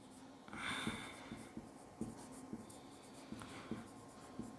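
Chalk or marker taps and strokes on a board during a maths lecture on real numbers, a quiet series of short scratches and knocks in an otherwise hushed room, with no talking.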